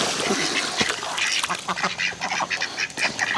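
Several ducks on a muddy farm property quack loudly and often, close by, with calls overlapping throughout and no talk over them.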